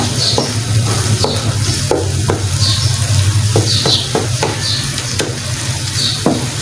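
Brain masala (maghaz) being stirred and fried in a pan, with steady close sizzling under repeated scraping strokes of a spoon against the pan and no talk.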